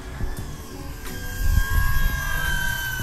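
FMS PC-21 Pilatus RC model airplane flying low in gusty wind, a steady whining electric-motor drone with rising and falling pitch, moderately loud and continuous with no talk.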